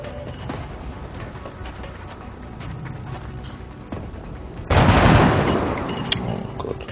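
Gunfire in the video game XCOM: Enemy Unknown: a faint, muffled background at first, then a sudden loud burst of shots and impact that decays over about two seconds, with no speech.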